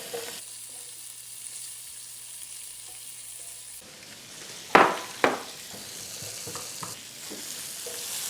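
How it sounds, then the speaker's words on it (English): Onions frying in a hot skillet, a broadband sizzle that starts faint and grows fuller partway through, with two sharp clatters near the middle as the pan or utensil is handled, no voices. "I want to quickly just fry up these onions"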